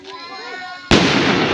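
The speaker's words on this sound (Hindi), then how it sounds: "फूटता हुआ पटाखा।" A firecracker bursting at a pre-wedding celebration, one sudden loud close bang with a broad crackling tail, right after a short stretch of quiet background with a voice.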